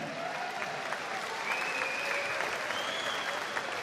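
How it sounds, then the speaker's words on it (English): Steady applause from a kickboxing event crowd after a three-round bout, a dense continuous patter with a few faint tonal whistles riding over it, no speech. "can we have a round of applause for both these fighters?"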